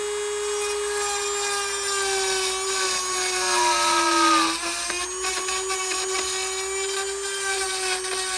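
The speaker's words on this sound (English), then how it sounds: "So now I've got a Dremel" A Dremel rotary tool chamfers the edge of a guitar bridge rout during a Paul Reed Smith EverTune bridge install, giving a loud, steady high-pitched whine that dips briefly as the bit bites into the wood, then holds.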